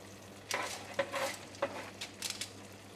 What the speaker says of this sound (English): So I'm going to mix everything.